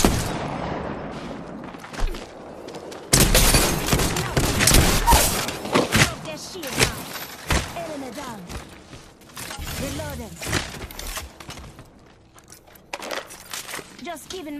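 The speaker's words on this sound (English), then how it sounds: "I'm spotted, taking fire." Gunfire in a video game firefight, sharp repeated shots and bursts with thuds and metallic clatter, fairly loud and close, scattered across the whole stretch with a voice speaking over parts of it.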